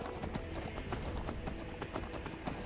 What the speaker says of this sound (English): These horses are fucking fast,